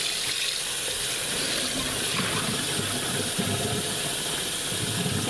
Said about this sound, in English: I'm going to run some cold water over them.